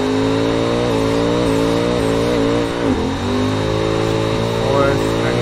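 A drift car's engine revs hard and continuously during a jump drift, with the pitch rising in steps through the gears and a brief dip around a bump, loud and close throughout.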